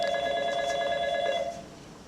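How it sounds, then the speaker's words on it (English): A telephone bell rings in one sustained, bright electronic trill that holds for about a second and a half and then cuts off, with no talk over it. "you have a phone call"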